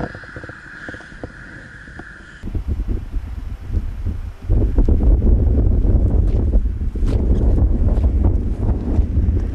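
Wind buffets the microphone while a cyclist rides a roadside bike lane near a village, with a steady rushing roar that grows louder and heavier partway through, and no one is talking.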